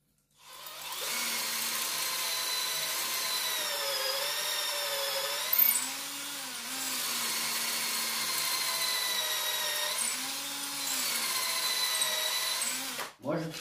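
Power drill boring into a brick oven with a 4.2 mm bit, a steady whining grind running nearly the whole time with shifting pitch and a short break near the middle, up close and loud.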